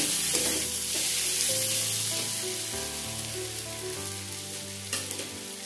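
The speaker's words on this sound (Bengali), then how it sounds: "মশলাটাকে ভালো করে কষিয়ে নেব।" A spice mix of cumin, turmeric and Kashmiri chilli fries for a potato and mutton curry, giving a steady, close, loud sizzle with a sustained tonal hum beneath it.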